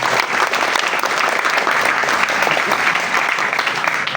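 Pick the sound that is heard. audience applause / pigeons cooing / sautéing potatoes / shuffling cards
audience applause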